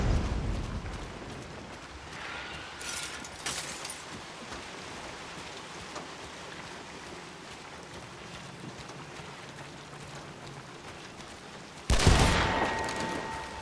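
Explosive-ammo gunfire in the game Hunt: Showdown: a muffled early blast, then a sharp, loud shot near the end over a quiet, rain-like ambient hiss.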